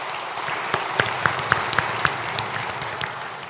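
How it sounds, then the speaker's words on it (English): An audience at a community groundhog breakfast applauding, steady dense clapping from many hands with a few sharper claps standing out near the front, sustained throughout. "Please, let's give her another round of applause."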